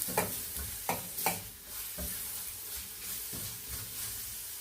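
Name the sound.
sautéing carrots in pan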